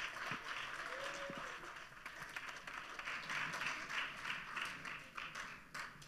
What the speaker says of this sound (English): That's your stage and that's your applause.